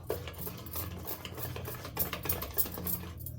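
Eggless cake batter being stirred in a bowl until smooth, a continuous soft scraping and swishing with quick rhythmic clicks of the utensil, close and fairly quiet.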